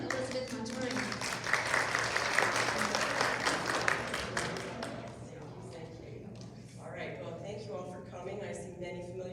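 Applause from an audience welcoming a speaker at a health talk swells over the first few seconds and then fades, with a voice coming in over the tail end.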